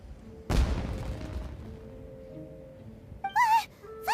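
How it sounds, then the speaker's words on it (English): A single deep boom goes off in the Genshin Impact video game, rolling away as a long rumble, followed later by short musical chimes. "It sounded like fireworks."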